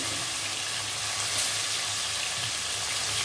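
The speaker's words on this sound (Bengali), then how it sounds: "এবার ওই তেলের মধ্যে মাংসটা কষিয়ে নেব" Chicken pieces sauté in hot oil over a medium flame for chicken curry, making a loud, dense, continuous sizzle that stays close and even throughout.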